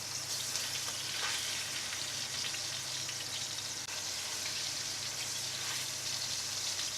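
Partridges brown in a pan over medium heat for Indian-style roast partridge, giving a constant, even sizzle of frying with no voices over it.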